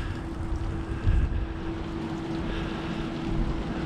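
Wind gusting across an outdoor commuter train station platform, a steady rushing buffet against the microphone with a stronger gust about a second in and a faint constant hum underneath, no speech.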